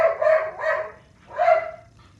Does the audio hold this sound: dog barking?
yes